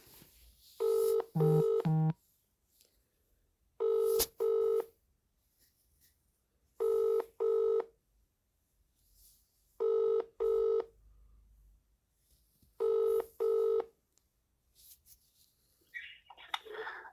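A phone dials out in short paired bursts of touch-tones, then a ringback tone sounds in regular spaced pulses with silence between, clear and close, ending in faint shuffling.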